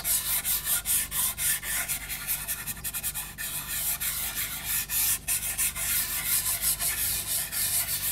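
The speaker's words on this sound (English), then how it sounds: "I'm just going to rub the white over the top of most of that." White pastel pencil rubbed back and forth over paper, a close, steady scratchy rasp in continuous rhythmic strokes with no talking.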